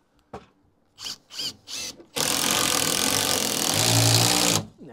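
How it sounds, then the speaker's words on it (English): An impact driver whirs in a sustained burst, driving screws into timber close-by on a solo garden room build, after a few short bumps and handling noises. "get the impactor, get some screws and see if that'll pull it across"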